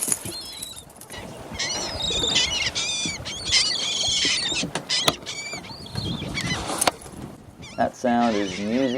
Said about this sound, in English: We have found a very nice flock of seagulls here next to an oyster bed out on the edge of Biloxi Marsh.